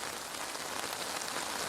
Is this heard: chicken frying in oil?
no